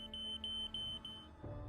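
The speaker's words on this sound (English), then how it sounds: "the smoke detector started beeping like crazy" A smoke detector in a smoky house gives off a rapid series of faint, high, pulsing beeps over a steady low hum, as part of an audiobook scene.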